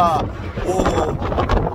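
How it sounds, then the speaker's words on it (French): Strong wind buffeting a microphone outdoors on a mountain pass during a motorcycle ride, loud continuous rumbling gusts that swell and dip, with a voice partly audible through the noise. "il y a du vent, je sais pas si on va entendre"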